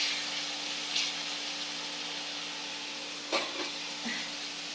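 Onions frying in a pan in a Bengali village kitchen: a faint, steady sizzling hiss over a low electrical hum, broken by a couple of brief clinks, with no talking.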